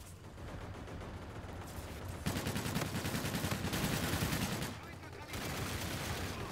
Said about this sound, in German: ich schieße den ganzen Magazin